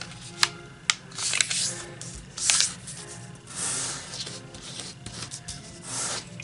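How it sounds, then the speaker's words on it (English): A square of kami origami paper is folded in half white side up, giving close crisp rustles and crinkles with sharp creasing scrapes in bursts, and nobody speaks. "let's begin white side up, and let's fold in half."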